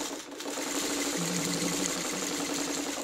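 Sewing machine stitching pieced quilt blocks together, a close, continuous rapid whirring hum with no pauses.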